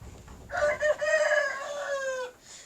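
A chicken gives one long, drawn-out call of about two seconds, loud and close, with no talking.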